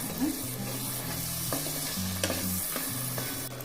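Spicy Chettinad kara chutney with asafoetida bubbling and sizzling in a pan, a steady close hiss under a few soft scraping stirs and faint clinks, with no voices.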